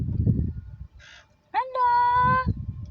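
Outdoors, a bird gives a single nasal, honking call lasting about a second. People talk close by before and after the call.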